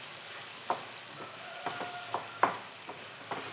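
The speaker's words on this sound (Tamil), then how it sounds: "இந்த நெய்யிலே நல்லா வறுத்து இது பண்ணி அடுப்பில் சிம்மில் வச்சுட்டு நல்லா இந்த மாதிரி கலக்கிக்கலாம்." Dates roast in ghee over a low flame while a spoon scrapes and taps the pan in a slow irregular rhythm, above a soft background sizzle.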